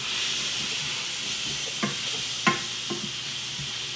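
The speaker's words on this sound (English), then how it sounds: "Now, I'm going to give our mushrooms a stir." Sliced mushrooms sizzle with a steady hiss in a hot pan for beef stroganoff, while a few soft scraping stirs cut through the frying noise at close range.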